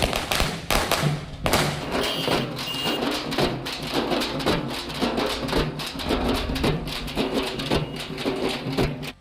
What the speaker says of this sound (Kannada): ವೆಂಕಟೇಶ್ ಅವರನ್ನ ಅಭಿಮಾನಿಗಳು ಹಾಗೆ ಕಾರ್ಯಕರ್ತರು ಪಟಾಕಿ ಸಿಡಿಸಿ ತಮಟೆ ಸದ್ದಿನೊಂದಿಗೆ ಅದ್ದೂರಿಯಾಗಿ ಸ್ವಾಗತ ಮಾಡಿದರು.